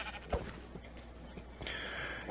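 Sheep in a video game bleat a few times, short nasal calls heard close over a quiet background, with no talking.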